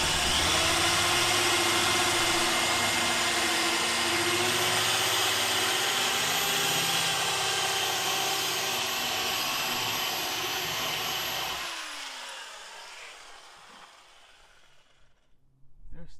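A power drill runs loud and steady in reverse, a continuous broadband whir lasting most of the moment before cutting off and fading into quiet handling noises.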